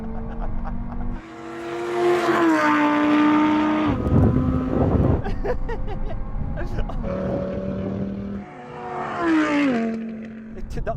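An Audi R8 and an Audi TT RS-R launch side by side in a drag race, engines roaring close and loud with rising pitch that breaks at gear changes before climbing again.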